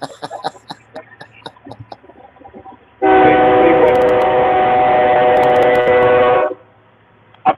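A loud phone ringtone imitating a train whistle blasts in one sustained, harsh horn-like tone for about three and a half seconds. Quieter voices come before it and after it stops abruptly.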